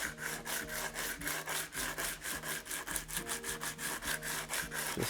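Sandpaper held flat rubs over a primer guide coat on the wing of a classic Mini 1275GT race car, a close, rhythmic scratchy back-and-forth of roughly twenty even strokes.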